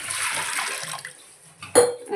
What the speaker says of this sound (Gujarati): કુકરમાં એક લીટર પાણી રેડી રહેશે